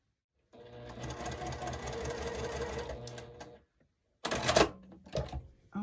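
A sewing machine stitching quilt blocks runs steadily for about three seconds with a fast mechanical whir, falls silent, then starts again in two short bursts.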